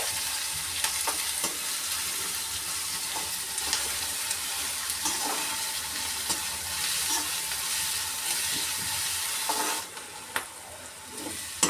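Ginger, garlic and green chili paste frying with onion in a pan: a continuous close sizzle with scattered scraping stirs, steady throughout, easing slightly near the end.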